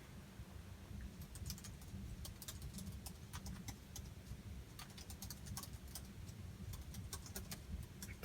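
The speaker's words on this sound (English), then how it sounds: "bear with me when I type in the URL" Keystrokes tapping out a web address on a computer keyboard, quiet and irregular, sounding over a steady low hum with no speech.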